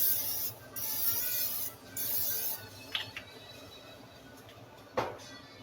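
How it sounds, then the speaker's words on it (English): Two short bursts of non-stick vegetable oil cooking spray hiss, each about a second long, followed by a few faint clicks and a sharp tap near the end. "vegetable oil cooking spray non-stick."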